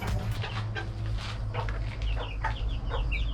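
Chickens in a henhouse with newly hatched chicks, giving soft repeated clucks and short high peeps close by over a steady low background hum.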